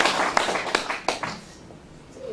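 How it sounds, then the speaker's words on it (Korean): An audience at a live book talk claps for the author, a brief burst of scattered applause that is loud at first and then fades out within about a second and a half. "박수 한 번 더 보내드릴게요"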